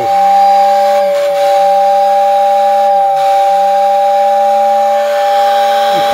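Steady, loud steam whistle from a Lionel postwar toy train whistle station on a ceiling shelf layout, a sustained airy multi-tone blast with hiss that holds for several seconds with slight dips in pitch.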